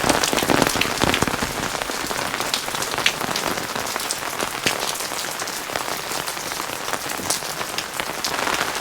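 Heavy rain pours steadily on surfaces in a mountain orchard setting in Mukteshwar, a dense, continuous hiss of drops with scattered sharper patters, loud and close, with no voices.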